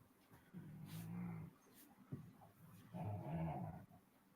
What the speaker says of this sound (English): got puppies yelling over here